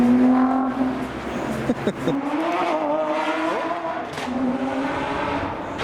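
A loud Lamborghini Aventador engine roars and revs continuously, its pitch rising and falling, with harmonic tones sweeping up as it accelerates nearby.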